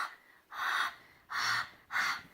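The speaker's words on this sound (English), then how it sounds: "what you do is you breathe on it." Three short, soft breaths are huffed onto a recycled rubber stamp block to re-moisten its ink, each an airy puff of under half a second, evenly spaced and close with no talk.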